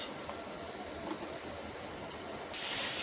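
Thick-cut bitter gourd slices fry in hot oil in a pan, giving a steady close hiss of sizzling that swells louder for the final half second, with no voices.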